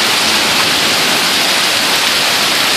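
Hail pounding a car windshield during a storm, a dense, steady roar of ice striking glass that continues without a break.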